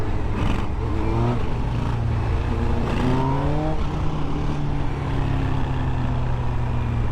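A 2021 Honda CB1000R Black Edition motorcycle engine drones steadily while riding, with rising and falling rev tones as gears shift under a constant rush of wind noise.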